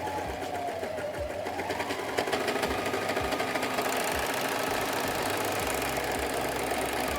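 A Brother 3034D overlocker runs steadily as it stitches fabric, a fast, even mechanical whir and rattle held at a constant loudness from start to finish, with no voices.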